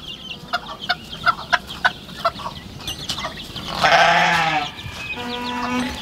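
A goat bleats loudly and close by in a hayloft at a rural forest homestead, one long wavering bleat followed by a shorter one, with a series of clucking chicken calls just before.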